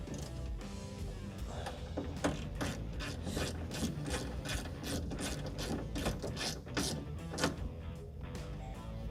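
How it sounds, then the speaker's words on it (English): Bolts are ratcheted down on the window regulator motor of a Mitsubishi 3000GT, giving a long run of fast, close ratchet clicks with a steady mechanical rasp underneath and no talk. "So we'll tighten these bolts down on the motor itself."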